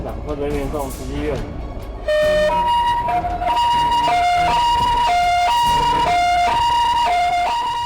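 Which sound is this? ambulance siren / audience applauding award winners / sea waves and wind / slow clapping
ambulance siren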